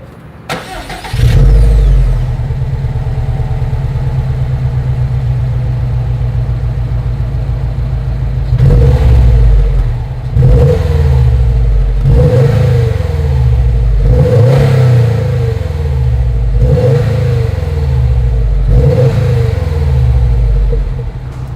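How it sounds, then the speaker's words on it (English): A 2020 Subaru WRX STI starts, idles with a deep burbling exhaust, then is revved in a series of sharp, evenly spaced throttle blips that rise and fall, loud and close with no talking. "So as always, here is that exhaust clip."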